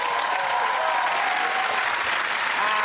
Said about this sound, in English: a round of applause for Russell, Ed and Andy